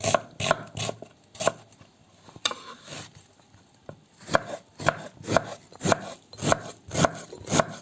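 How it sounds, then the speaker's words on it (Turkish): A knife finely chops onions on a cutting board, quick rhythmic taps close by, with a brief pause before the chopping resumes in an even beat. "bu şekilde soğanlarımı minik minik doğrayacağım"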